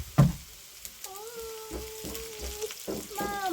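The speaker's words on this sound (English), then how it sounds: "Our onions is getting brown." Onions fry in a pan for egg stew, a soft steady sizzle punctuated by a few stirring knocks, with brief tonal wavering sounds over it.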